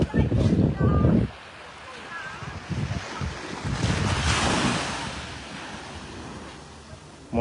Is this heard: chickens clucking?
no